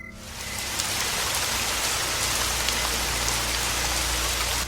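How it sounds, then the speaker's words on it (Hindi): Light drizzling rain falling on a surface, a soft continuous patter of drops with no voices, even and unbroken throughout. "हल्की रिमझिम बारिश हो रही होती है"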